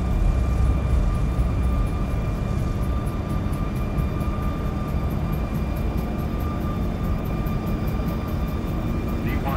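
Boeing 737 MAX 8 engines roar steadily on the takeoff roll in the X-Plane 11 flight simulator, a loud continuous rumble with a high whine on top.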